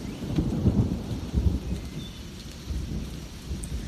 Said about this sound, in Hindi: एक रोज मूसलाधार पानी बरसा।